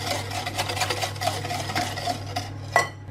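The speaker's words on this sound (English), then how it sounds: "Then we'll just whisk it in." Whisk beating sugar into gluten-free coconut flour parsnip bread batter in a bowl, quick rhythmic swishing and tapping against the sides, close, ending with a sharper knock, no talking.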